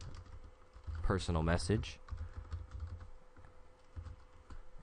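Computer keyboard typing, a run of soft key clicks under a brief spoken phrase in a quiet room, continuing lightly after the voice stops.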